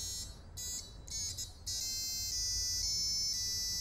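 Basic electronic tones from a micro:bit through a speaker wired to pin zero, a string of clear, evenly pitched beeps in short bursts, then a longer sustained run of tones, fairly quiet and alone.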